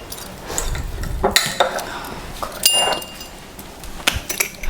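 Metal kitchen utensils and measuring spoons clink and rattle in a drawer as someone searches for a teaspoon measure during a gluten-free vegan bread-stick baking class for kids, several sharp, close clatters spread irregularly over steady background noise.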